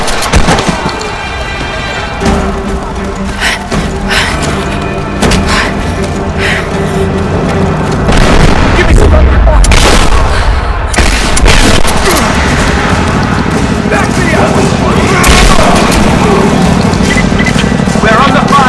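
Rapid bursts of gunfire and heavy booming explosions from a firefight at the edge of a village in Rise of the Tomb Raider, dense and continuous for the whole stretch alongside a tense music score.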